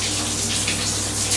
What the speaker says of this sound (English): You having a shower, eh, chicken?